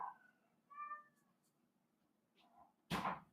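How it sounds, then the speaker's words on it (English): A house cat meows a few times, short tonal calls close by in a quiet room, followed by a sudden brief clatter. "Oh, my cat. I don't know if you can hear her, but she really wants to be part of this."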